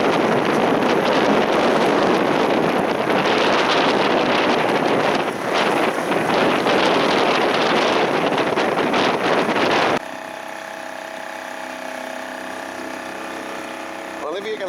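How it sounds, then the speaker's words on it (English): A boat's outboard motor gives a loud, steady engine drone with heavy wind buffeting the microphone, on the river between Iken and Orford in Suffolk, then a sudden drop to a quieter mechanical hum for the last few seconds. "I am sorry we got the outboard on"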